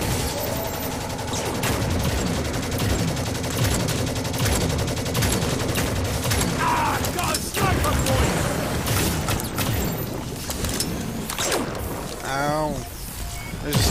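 Rapid gunfire in the online shooter game Firefall, with dense bursts of shots and mechanical clatter that continue almost without pause, mixed with occasional game effects.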